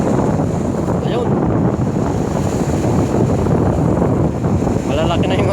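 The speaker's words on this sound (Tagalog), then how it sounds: "lalong lumakas ang hangin" Strong wind buffeting the microphone at the Dammam Corniche seaside during rough seas, a loud constant roar with gusty swells and waves washing underneath.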